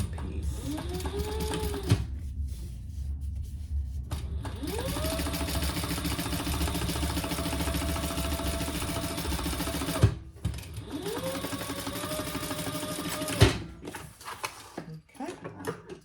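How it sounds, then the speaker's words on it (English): A sewing machine top stitches a seam on a bag lining piece, running in several steady motor bursts that rise to speed and stop, with quiet pauses between runs. "we're sewing the top stitch on the lining piece"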